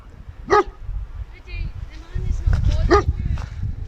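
A dog gives two sharp barks about two seconds apart, close by, over a low rumbling background with some faint voices.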